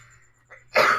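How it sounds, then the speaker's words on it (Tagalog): A single short cough, close and fairly loud, preceded by a faint breathy sound against a quiet background hum. "Umubo pa yan."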